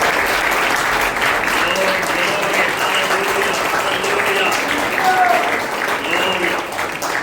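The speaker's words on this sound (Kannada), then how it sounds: "ಜೋರಾಗಿ ಚಪ್ಪಾಳೆ ತಟ್ಟಬೇಕು." Loud, dense clapping from a large church congregation, sustained and steady throughout with no pauses.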